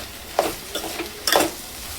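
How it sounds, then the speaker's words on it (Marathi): Onion-garlic masala, turmeric and salt roast in oil for Vidarbha-style dal vangi; three quick stirring scrapes punctuate a soft, continuous sizzle, close and unaccompanied by talk. "मसाले आता आपण तेलामध्ये थोडं भाजून घेणार आहोत"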